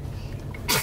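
A short, sharp sneeze bursts out near the close of a quiet stretch inside a car on a family road trip. It is a single sudden burst, fairly close and moderately loud.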